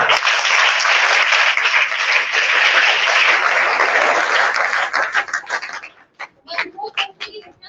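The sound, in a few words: applause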